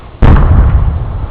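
A single loud, close New Year's firework bursts with a deep boom in town at night, its rumble and crackle rolling on afterwards.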